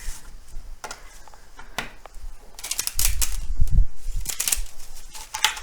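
Tarot cards shuffled by hand give off a run of crisp, irregular riffles and soft snaps, quieter at first and then bunching into denser, louder bursts, close up with no talk.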